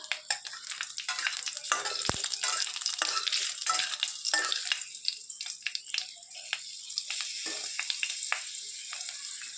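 Green chillies and mustard seeds fry in hot oil for a winter tomato masoor dal, giving a busy, crackling sizzle with occasional stirring clatter. The sizzle stays steady and close from start to finish.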